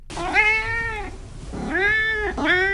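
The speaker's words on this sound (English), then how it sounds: "Meet my cat, Oliver." A domestic cat meows three times up close: two long drawn-out calls and a shorter one at the end, loud and clear with no talking.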